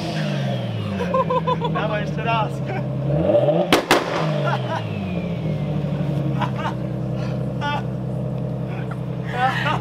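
A car engine revs up and down repeatedly with a sharp burst midway, loud and close, while people talk briefly over it.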